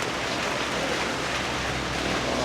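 Rain falls steadily at an overlook in Puntalinao, Banay-Banay, Davao Oriental, a dense, loud, unbroken hiss of drops with no other sound standing out.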